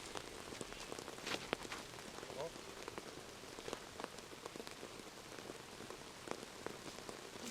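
Steady rain pattering on surfaces during a disc golf tournament round in Turku, a dense, continuous hiss broken by individual drop hits, heard fairly quietly in the background with no talk.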